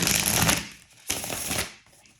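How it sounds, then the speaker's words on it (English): A deck of oracle cards being shuffled by hand, close up: two quick riffling bursts of papery flutter about a second apart, with nobody talking. "That was the best shuffle I've ever had of this deck."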